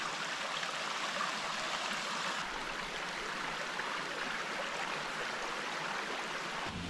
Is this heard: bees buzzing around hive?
no